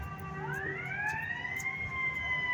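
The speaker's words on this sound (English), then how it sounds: "the sound of the siren. Emergency equipment going hither and yon" An emergency vehicle siren on a New York City street wails up and holds a rising tone, loud and fairly close, over a rumble of traffic, with no talking.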